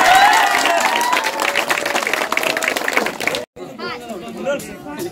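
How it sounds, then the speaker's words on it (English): Crowd clapping and chatter at the prize ceremony of a village football tournament final, dense and loud with voices mixed in, then a brief cutoff and quieter talk and murmuring. "Clap, everyone!"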